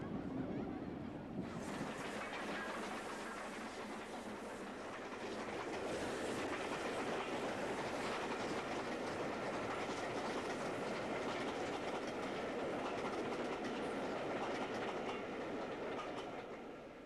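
A 7mm O gauge model train runs steadily around a long layout with a continuous, fairly loud rolling rumble and clatter that swells slightly midway, with no talking.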